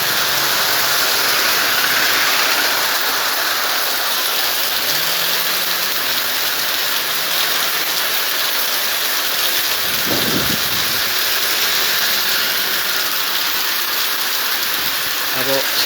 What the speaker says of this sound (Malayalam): മഴ എത്തിയത് തന്നെ വളരെ ശക്തമായ കാറ്റ് വീശിയടിച്ചുകൊണ്ടാണ്